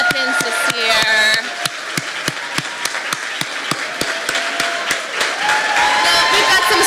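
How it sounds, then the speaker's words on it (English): Audience clapping at a nursing program pinning ceremony, a steady dense round of applause from a crowd indoors, sustained for several seconds with sharp individual claps audible throughout. "Can we just give a round of applause for our MEPNs this year?"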